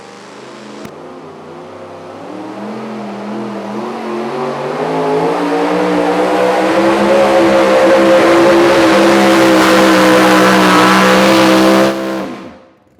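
A Chevrolet super modified two-wheel drive pulling truck hauls a sled at a Goshen, Indiana pull, its engine building from a rising howl into a sustained, loud, high-revving roar for several seconds before cutting off abruptly.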